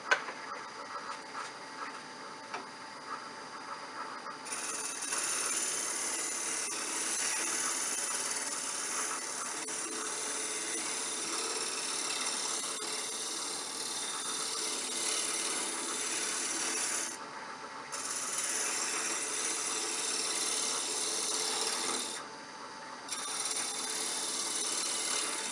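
A negative rake skew chisel cutting wood on a lathe while making a ring dish, a continuous close rasping scrape that starts softly and then runs steadily, broken by two brief pauses as the tool lifts off.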